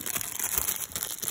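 Crinkly plastic wrapper of a Pokemon trading card pack is crumpled and torn open close up, a steady soft rustling crackle with no talking.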